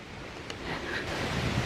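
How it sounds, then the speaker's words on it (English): A small creek swollen after just under 3 inches of heavy rain, rushing as a steady, close, broadband roar of water with no voices. "the little creek is booking"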